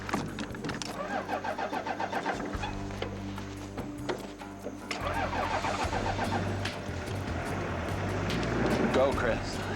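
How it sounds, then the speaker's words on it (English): A car engine starts up in the wild near an approaching lion: cranking turns over, catches, and settles into a rising idle close by, with people talking over it. "Start the car up, Chris."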